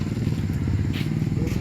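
A noisy motorcycle exhaust rumbles low and rough outside a barangay hall, a continuous close engine drone with faint clatter on top.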